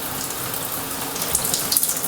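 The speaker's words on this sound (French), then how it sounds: "Je vais commencer par me mouiller les cheveux." Tap water runs steadily while hair is wetted before a protein treatment on afro-textured hair, with a few sharper splashes near the end and no talking.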